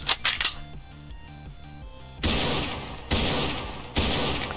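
Gunshots in Ragdoll Universe: a quick burst of sharp cracks at the start, then three loud, separate blasts spaced about a second apart, each trailing off in a noisy decay.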